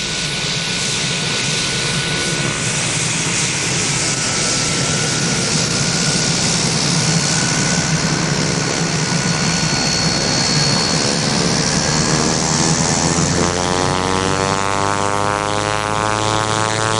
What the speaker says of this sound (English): We're taxiing at Laverton